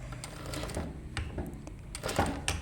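A home sewing machine runs a straight seam on a skirt, stitching about a centimeter from the fabric edge, a steady close mechanical whir with rapid needle clatter and small pauses.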